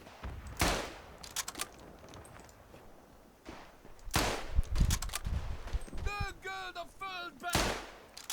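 Rifle shots ring out in the World War I shooter Tannenberg, a few loud sharp cracks spaced seconds apart with echoing tails, along with other distant battlefield fire and some whistling sounds.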